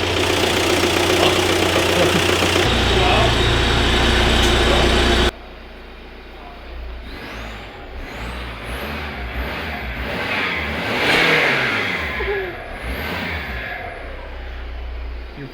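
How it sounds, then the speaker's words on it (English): An Audi A4 TDI diesel engine with a blocked DPF idles then revs up and down, with a faint high turbo whistle rising and falling; a voice talks briefly over it. "You can probably hear the turbo now."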